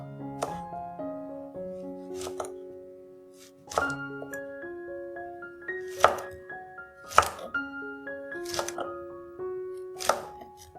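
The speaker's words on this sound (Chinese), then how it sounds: "也将羊角豆的头尾去除，然后打斜切" A knife cuts diagonally through okra on a board, a handful of distinct close chops spaced a second or so apart over gentle background music, with no talking.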